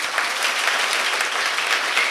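An audience claps steadily and warmly at a charity event, dense continuous applause filling the space at even loudness throughout.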